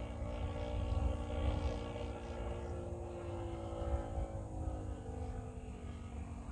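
A Great Planes JU-87 Stuka radio-controlled model airplane flying with the throttle backed off gives a soft, steady propeller drone with a faint tonal whine, distant and low in level, swelling slightly as it passes.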